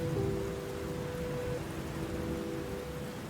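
Steady rain hisses in the Hollow Knight: Silksong video game, a soft even wash of falling drops with sustained mournful music tones drifting over it, continuous and moderately quiet.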